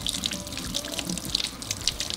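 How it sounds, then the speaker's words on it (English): Water runs from a kitchen tap as tomatillos are rinsed in their papery husks, a steady close splashing with small drips and handling noises throughout. "next we're going to wash our tomatillos with the peeling, and then we're going to remove the peeling and wash the inside of the tomatillo"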